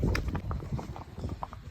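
Horse hooves clip-clop steadily along a lane at a relaxed walk during a hack, close and fairly loud, with an even, unhurried rhythm and no talking.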